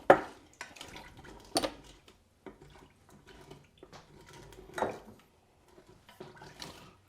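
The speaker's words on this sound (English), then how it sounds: "I'm gonna scrape the bottom of the pan and get all of that kind of burnt on seasoning back off and into the mix here." A utensil scrapes burnt-on seasoning from the bottom of a cooking pan holding pulled chicken, making several short scratchy clatters with quiet pauses between them, close by in a kitchen.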